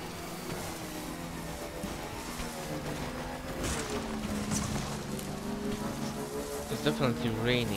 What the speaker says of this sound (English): Raining, I think, no?